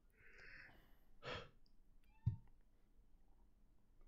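A person's drawn-out yawn, with a soft breathy onset swelling into a brief voiced exhale, followed by a short sigh-like gasp; quiet and close, with no talk.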